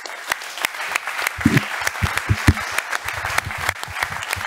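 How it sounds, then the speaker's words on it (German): Studio audience at a live German football TV show clapping, sharp individual claps sounding close and scattered over a softer continuous applause bed, with some cheering in the middle. "Ihr solltet euch mal selbst Applaus geben."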